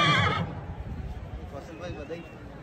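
A mare at a horse show lets out a loud, close neigh at the very start, then an announcer's voice carries on over the crowd noise.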